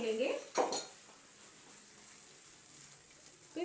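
Tomato and cashew gravy is tipped into a pan with a metal clatter near the start, then a spoon stirs it with soft scraping under a faint sizzle.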